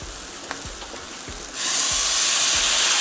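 Tomatoes drop into a pan of vegetables that have been sautéing for a few minutes, and the sizzle swells into a loud, steady hiss that carries on without a break. No one speaks.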